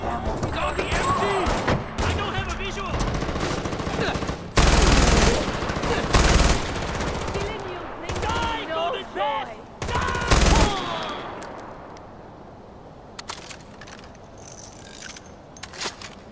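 Rapid machine gun bursts in the video game Far Cry 4, dense loud automatic fire in several volleys mixed with game effects and a shouting voice.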